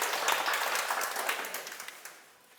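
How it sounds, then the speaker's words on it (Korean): Audience applause at a Korean lecture or dharma talk, a dense wash of many hands clapping that holds steady, then thins and fades toward the end. "큰 박수 부탁드립니다"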